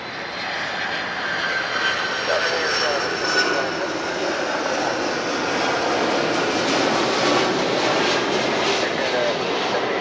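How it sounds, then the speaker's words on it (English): A Delta airliner on approach to land at LAX, a loud, steady jet engine roar that swells gradually as the plane draws nearer, filling the whole stretch without breaks. "We're about to see a flight coming in. What is it? I don't know. It appears to be Delta of some sort."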